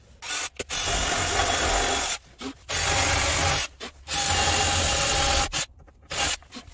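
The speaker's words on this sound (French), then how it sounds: "Pareil sur les trois, il n'y a plus qu'à percer." A power drill bores holes through wood while dowel joints are prepared for a bed frame in a converted minivan, running in several long, loud whining bursts separated by brief pauses, with no talk.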